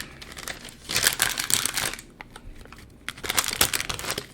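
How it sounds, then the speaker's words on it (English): A sheet of parchment paper is crinkled and pressed over the top of a jar of herbal infusion, two bursts of loud, close rustling crackle separated by a short quieter pause. "So I'm going to put this parchment on top."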